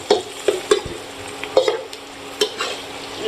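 Spicy chicken 65 with Kashmiri red chilli powder and a little cumin being stirred in a pan: a spoon scrapes and clinks in irregular strokes over a low, steady frying sizzle, close by with no talk.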